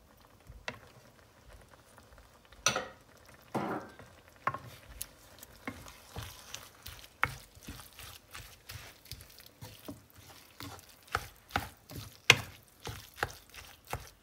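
Grated carrots for carrot halwa being stirred in a pan, with scattered clacks and scrapes of the spoon against the pan over a soft sizzle, close and fairly quiet, with no voices.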